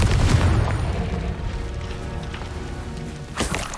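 A Confringo spell explosion in Hogwarts Legacy erupts as a loud, close boom with a crackling, rain-like rumble that slowly fades, then a sharp burst near the end.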